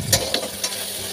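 Chopped onion frying in fish oil in a wok, a close bright sizzle with three quick scraping stirs of a spatula against the pan in rapid succession, no voices.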